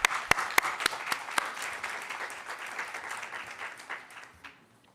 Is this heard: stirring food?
no